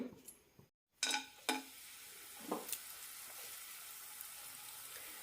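A piece of asafoetida fries in a teaspoon of oil in a pan, giving a soft steady sizzle with a few brief stirring clatters near the start.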